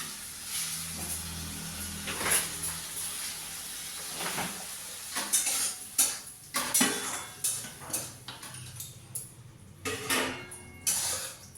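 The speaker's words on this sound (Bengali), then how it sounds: "মশলাটা ভালো করে কষিয়ে নিই, একটু হালকা করে" A metal spoon scrapes and clatters repeatedly in a pan while spice masala sautés for a vegetarian dish, the rhythmic strokes over a soft background hiss.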